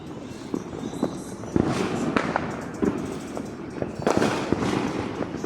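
Fourth of July fireworks and firecrackers in Allentown go off in a string of sharp cracks and thumping bangs at irregular intervals, loud and fairly close, with small pops between bigger blasts.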